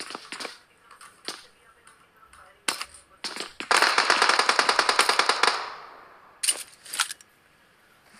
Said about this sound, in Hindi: टीम नंबर 16 से भी यहाँ पे उनकी तरफ फायरिंग आ रहे हैं कुछ